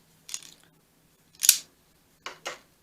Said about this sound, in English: scissors with different edges I might use